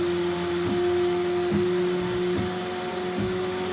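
A Bambu Lab X1 Carbon 3D printer cleans its nozzle: a steady motor hum is broken by regular knocking clicks just under a second apart, close and moderately loud, with no talking.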